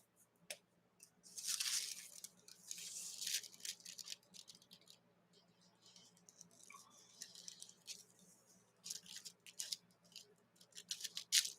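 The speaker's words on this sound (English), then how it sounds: "I like tearing out deli paper because it makes it more melty on the edges." Deli paper is torn by hand in several bursts of crisp, dry ripping, close and fairly loud, with quieter rustles and small handling sounds between the tears and no talking.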